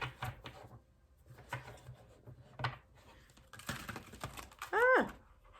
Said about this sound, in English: That was a poor shuffle.